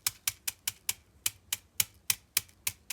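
Drumsticks tapped together, giving a quick, fairly regular series of about a dozen sharp, clicky wooden knocks, close and moderately loud with no talking.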